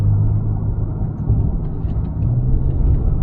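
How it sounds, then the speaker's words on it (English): A 2012 Porsche Carrera S engine pulls toward redline with a loud, steady, low rumble that fills the cabin and holds continuously without breaks. "This engine loves to sing."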